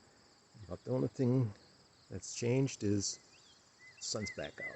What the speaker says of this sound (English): You can hear the birds chirping, crickets chirping.